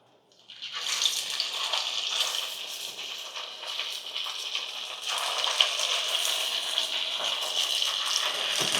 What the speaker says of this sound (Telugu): సో ఇప్పుడు మనం ఆయిల్ డీప్ ఫ్రై చేసుకున్నాం